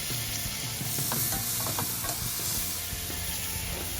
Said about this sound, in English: Stir it all up. Put the tomatoes.